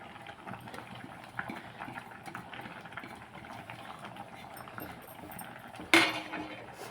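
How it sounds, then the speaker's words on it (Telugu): Moong dal with coconut simmering in a cooking pot, a faint continuous bubbling hiss with soft gurgles, and a brief sharp clatter near the end. "పెసరపప్పు ఉడికిపోతుంది"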